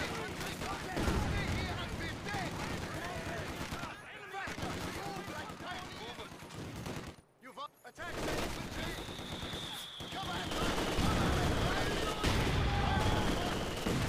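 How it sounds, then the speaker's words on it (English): Mortar rounds pounding down in a video game battle, a long run of heavy booms and crackling blasts mixed with other gunfire, with a brief lull midway before the barrage resumes. "That's a lot of mortars, actually."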